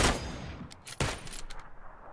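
Gunfire in the video game PUBG: a sharp shot at the start, another crack about a second later, then a few fainter distant pops trailing after, with no speech over them.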